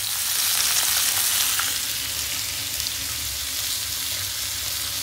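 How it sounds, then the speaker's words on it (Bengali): Prawn and coriander kebabs fry in a frying pan with a steady, loud close-up sizzle that crackles on without pause and with no talking. "কাবাবগুলো ভাজা হচ্ছে, কাবাবগুলো ভাজা শুরু হয়ে গেছে"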